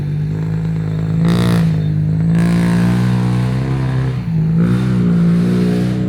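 A motorcycle engine idles with a strong low throb and revs up in sharp bursts at around 1.3 and 4.6 seconds, loud and close, with no voices.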